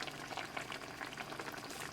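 Chicken broth bubbling in a pan on a gas stove for chicken Marsala, a soft, continuous crackling simmer heard close up and alone.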